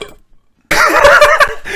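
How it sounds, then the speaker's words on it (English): After a brief quiet pause a man lets out a loud, drawn-out burp close to the microphone during a podcast recording. "hang on, I got a burp now."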